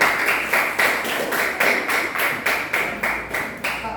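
A class in an Islamic school lesson claps together in a steady rhythmic pattern, about two sharp claps per second, bright and close, with no talking.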